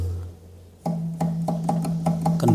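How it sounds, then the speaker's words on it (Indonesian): A large kendang drum from a gamelan set is played in a quick run of about seven deep, resonant strokes. The beats come close and fairly loud, at an uneven but lively pace, with no voices. "Ini kendangnya ini, kendang besar"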